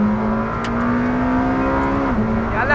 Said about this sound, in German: jetzt müssen wir früh aufs Gas.